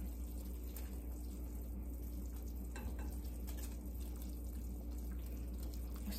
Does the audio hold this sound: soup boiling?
yes